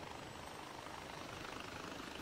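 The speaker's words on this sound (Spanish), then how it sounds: "Vamos con nuestro helicóptero a estrenarlo." A helicopter in Far Cry 4 whirs steadily with a constant rotor drone, filling the scene with no talk over it.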